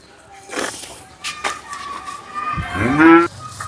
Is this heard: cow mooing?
yes